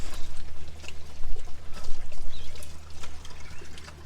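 Water from a spray rinses Dawn dish soap off a freshly dyed disc golf disc, a steady loud splashing hiss that runs the whole time with no pauses.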